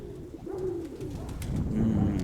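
Pigeons of a prized breed coo in low, rolling phrases close by, with soft rustling and ambient noise around them.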